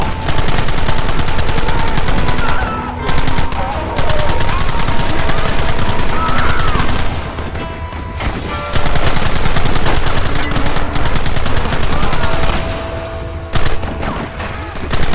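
Dense, sustained gunfire in Red Dead Redemption, with volleys of rapid shots and machine-gun bursts almost nonstop throughout, loud and close, with brief lulls and shouting voices mixed in.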